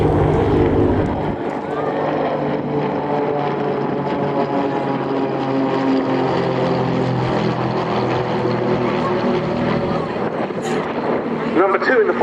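Aircraft engine and propeller drone from a display team's plane at the RAF Cosford Airshow, a steady loud hum sustained throughout, with someone narrating over it.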